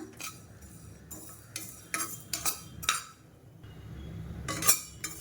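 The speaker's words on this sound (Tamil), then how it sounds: "இந்த மல்லியை நல்லா செவக்க வறுத்துக்கணும்" Coriander seeds dry roast in a pan, heard as a series of sharp metallic scrapes and clinks from a stirring spoon, spaced unevenly over a quiet background, with no one speaking.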